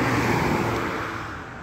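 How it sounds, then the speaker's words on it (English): Cars go by on a nearby road as a broad, steady rush of traffic noise that gradually eases off, with no talking. "stupid cars coming by"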